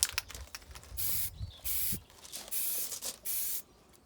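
A spray paint can hisses in four short bursts onto BMX bike parts, close and crisp, separated by brief pauses with faint handling clicks.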